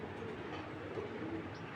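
Kalchi Madrasi pigeons cooing softly in a loft, a low, faint murmur of coos running steadily under a quiet background hum, with no voices.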